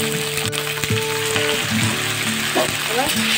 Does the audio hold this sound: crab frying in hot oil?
yes